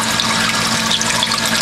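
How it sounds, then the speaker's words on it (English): Water gushes steadily into the collection cup of an aquarium protein skimmer, a loud continuous splashing rush with no pauses or voices. "water is just pouring into the collection cup."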